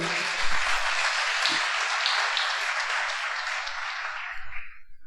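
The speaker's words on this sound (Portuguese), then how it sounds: "dê um aplauso ao Senhor" A church congregation applauds, with dense, sustained clapping from many hands that swells briefly and then gradually thins and fades toward the end.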